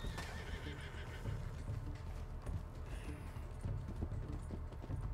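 A horse neighs in the Red Dead Redemption 2 video game, with clip-clop hoofbeats and whinnying over a rumbling, continuous game soundscape at moderate volume.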